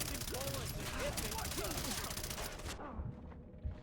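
Rapid rifle fire in the video game Far Cry 3 rattles in a dense, continuous burst under a voice, then cuts off abruptly, leaving a quieter tail with a single low thump.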